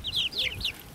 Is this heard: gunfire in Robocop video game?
no